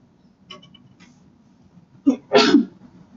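Sneeze in a classroom during a math lesson: a couple of faint clicks, then a short sharp intake and a loud, burst-like sneeze, heard alone.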